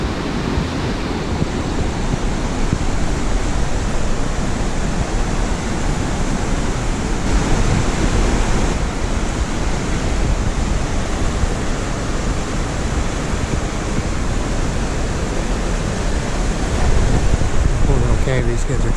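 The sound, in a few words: river rapids rushing at McConnells Mill State Park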